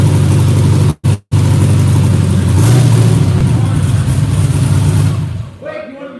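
A car engine runs hard on a dyno, loud and steady with a brief cut-out and a rise in pitch mid-way, then dies off toward the end as a voice speaks briefly.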